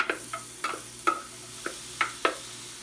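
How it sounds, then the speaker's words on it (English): Chopped onions go into a hot pan of olive oil, already holding fatty ground beef. A close, steady sizzle runs under a series of sharp scraping stirs, with no talking. "So we're taking our onions and just dumping them in here."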